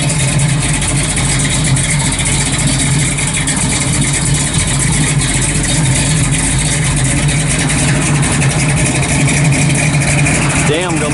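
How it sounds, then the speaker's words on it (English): A 1969 Chevrolet Camaro RS/SS V8 idles with a deep, loud, steady rumble close by, and someone talks over the engine. "Good sounding car. I'll tell you, the thing pounds the ground."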